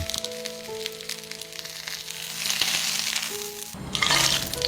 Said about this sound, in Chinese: 锅里的猪油不要浪费，把青椒和鸡蛋煎出虎皮，真的贼香